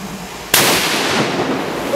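A single loud .50 caliber rifle shot bursts out sharply after a brief quiet lead-in, with a rolling outdoor echo trailing off behind it; no one speaks over the blast.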